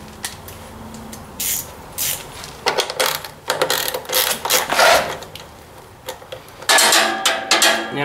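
Ratchet wrench clicking on a fuel pump bolt of a John Deere Z355R zero-turn mower with an Intek engine, close, loud bursts of rapid pawl clicks with metallic clatter and brief pauses between strokes.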